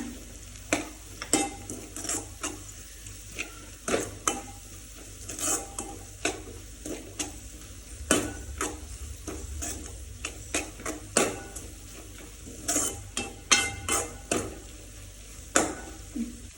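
Onions and masala being sautéed in a pan, with repeated sharp clanks and scrapes of a spoon against the metal over a low sizzle, close and irregular, no talking.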